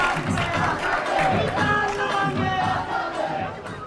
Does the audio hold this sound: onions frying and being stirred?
no